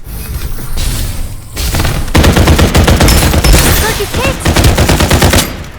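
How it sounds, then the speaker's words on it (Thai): Rapid automatic gunfire in the shooter video game Farlight 84, loud sustained bursts with thumps and booms, nearly continuous across the clip and briefly pausing once. "ยิงไม่โดนเลยระยะประชิด"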